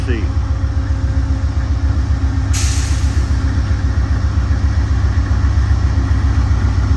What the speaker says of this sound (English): Got a General Electric P42 DC diesel electric locomotive.